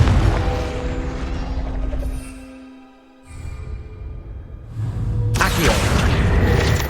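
A Confringo blasting spell explodes in the game Hogwarts Legacy as a loud, roaring boom that fades briefly and then swells into a sustained rumbling blast over the game ambience.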